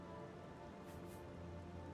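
Rain falls steadily in the Elder Scrolls IV: Oblivion game world, a dense, even hiss of drops on surfaces, soft and distant with a low rumbling undertone throughout.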